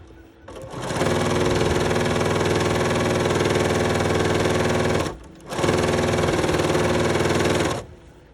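Sewing machine stitching sashing onto a crazy quilt block, a close, steady high-speed whirring run for several seconds, a brief pause, then a second shorter burst of stitching.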